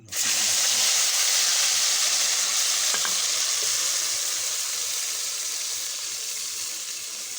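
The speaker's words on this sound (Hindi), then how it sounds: "अब हम इसमें डालेंगे क्रश किए हुए टमाटर।" Crushed tomatoes hit a hot biryani pot over a village-style cooking fire, setting off a loud, steady sizzle and hiss that slowly eases, with a faint clink partway through.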